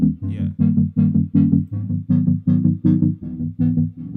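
A synth from FL Studio, modulated by an LFO and given light reverb and chorus, plays a pulsing, evenly repeated sequence of bright plucked notes with a firm low body, loud and alone.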